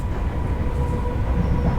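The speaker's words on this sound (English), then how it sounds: "train. That's on the viaduct over there" A train crossing a railway viaduct heard from some distance: a steady, low rumbling roar with a faint tonal hum, continuous and fairly loud for the whole short stretch.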